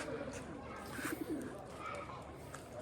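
Pigeons at a pigeon club coo softly in a low, rolling burble, several short calls close by over faint background noise.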